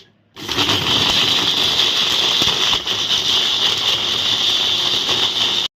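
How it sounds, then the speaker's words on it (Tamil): Mixer grinder grinding sugar and other ingredients, switching on abruptly into a loud, steady whirring grind that runs nonstop and then cuts off sharply. "இதை நம்ம அரைச்சிக்கலாம்"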